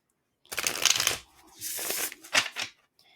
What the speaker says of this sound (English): So let's go ahead and shuffle these.